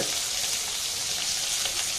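Snakehead fish frying in a pan gives a loud, dense, continuous sizzle at close range.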